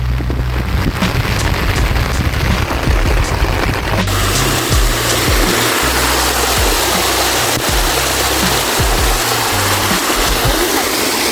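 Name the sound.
heavy rain falling outdoors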